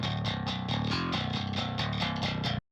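A distorted bass guitar through a SansAmp plays a quick, rhythmic run of plucked metal notes with a gritty, clanky tone, cutting off abruptly at the end.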